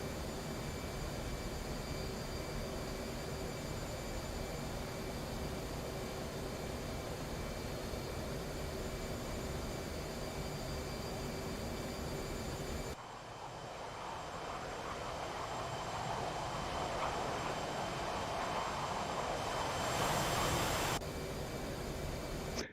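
F-18 jet flying past in the DCS flight simulator game, a steady broadband engine roar that shifts and swells midway as the jet passes close, then briefly cuts away before the end.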